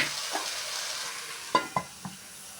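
Chopped vegetables for a spicy chickpea curry sizzle softly in a pan under a steady hiss, with a few scraping stirs of a spoon standing out near the end.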